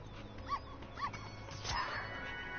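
Dog whimpering in the video game Spyro Year of the Dragon, a few soft whiny yelps at moderate volume over steady game background noise.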